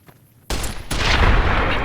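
Submachine gun fire from Fallout New Vegas bursts in loud and abrupt after a quiet half-second, then swells into a denser, sustained volley of close-range shots.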